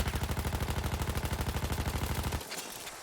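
A Parabellum machine gun fires in Battlefield 1 while strafing, a rapid, evenly spaced burst of loud shots lasting over two seconds before cutting off into a quieter tail.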